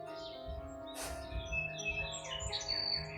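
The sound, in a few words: birds singing on a farm in spring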